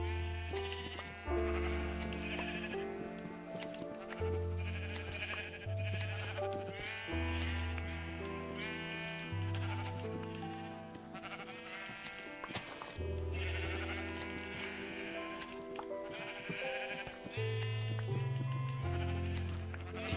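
Sheep bleating in Minecraft, the video game, repeated cartoonish bleats from several sheep overlapping in steady succession, over continuous tonal game music with no talk.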